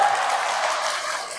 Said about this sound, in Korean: 지금 박수 치시는 분들은 복 많이 받으시길 바라요.